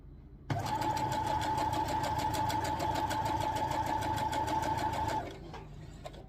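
Sewing machine stitching jelly roll quilt strips together, a rapid steady mechanical whir with a sharp regular stitch rhythm, close and clear for about five seconds before it stops.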